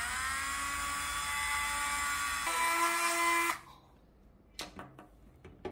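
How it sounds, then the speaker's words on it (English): A high-pitched Dremel 8200 cordless rotary tool whines steadily while drilling an action figure's thigh swivel joint, dropping in pitch midway, then cuts off, followed by a few faint clicks and taps. "Here's my cordless Dremel 8200."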